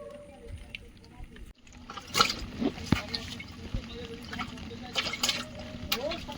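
Koi fish from a net are dropped into a container of fresh water, giving scattered splashes and trickles under ongoing talk, fairly close and soft.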